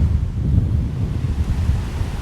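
Strong wind roaring and buffeting the microphone outdoors in the city of Durres, Albania, in November, a loud continuous low rumble with no voices.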